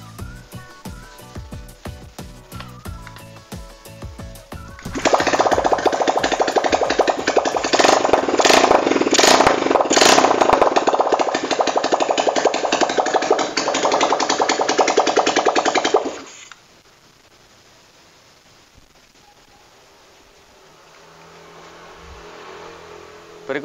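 A Honda Tiger motorcycle engine fired up after ignition wiring checks: faint ticking at first, then a loud, sustained revving roar for about eleven seconds that cuts abruptly to a quiet low idle, with a faint voice briefly.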